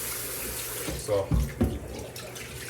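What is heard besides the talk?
tap water rinsing raw chicken in the sink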